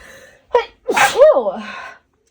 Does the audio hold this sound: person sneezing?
yes